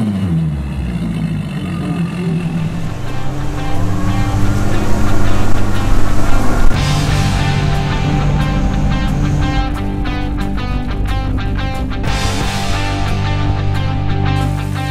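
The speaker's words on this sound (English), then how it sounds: "the Mercury Pro XS is amazing, amazing engine. We are going to fire this thing up." A Mercury Pro XS outboard engine on a new boat on the Wolf River runs with a deep, steady throb, revving up and staying loud and close throughout.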